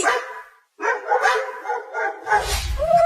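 Dogs bark in a quick series of sharp, close barks, with a short pause early on and a low rumble toward the end.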